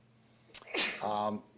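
A single sneeze erupts in a quiet committee meeting room, a short sharp inhale followed by a forceful burst and a voiced trailing sound, close and clear over a faint electrical hum.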